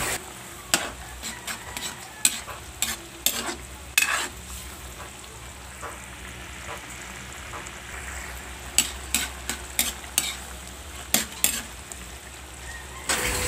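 Coconut milk with salmon belly bubbles and sizzles steadily at low volume in a pan, with scattered clinks and taps of a utensil against the pot throughout.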